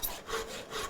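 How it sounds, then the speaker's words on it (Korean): A saw cuts through the tough root end of a bamboo tube clamped on a machine in a haegeum maker's workshop, a brief close rasp with two strokes. "색바랜 파란 기계에 원통을 고정하고 톱질을 한다"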